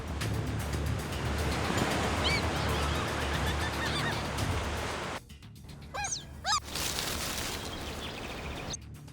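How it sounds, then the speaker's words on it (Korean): A flock of seabirds lifts off together along a coastal cliff, honking and calling in bursts over a steady roar of surf and wind, loud and fairly close, with clearer calls as the background briefly drops. "바다새 무리가 동시에 날아오르는 순간"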